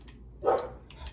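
A pet dog gives a single short bark, close and fairly loud, against a quiet room hum with no talk.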